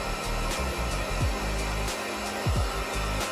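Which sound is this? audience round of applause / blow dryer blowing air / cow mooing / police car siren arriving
blow dryer blowing air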